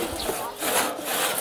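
A hand saw cuts through wood in close, rasping back-and-forth strokes with an even rhythm and no talk over it.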